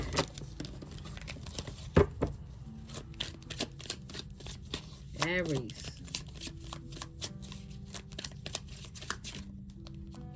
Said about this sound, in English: A little bit more shuffle on these cards here.